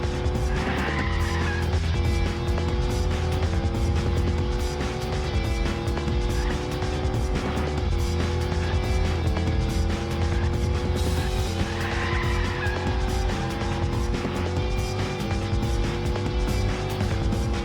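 A racing car in a free racing video game drives continuously, its engine droning and shifting pitch through repeated gear changes, with tire squeal and skidding, loud and steady throughout.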